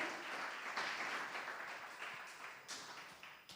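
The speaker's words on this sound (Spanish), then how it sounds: "que le dé un aplauso fuerte a los que ayudaron" A church congregation applauds the helpers, a faint, distant wash of many hands clapping that swells slightly in places and never stops.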